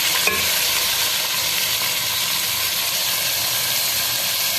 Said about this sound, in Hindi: ये टमाटर डाल रहे हैं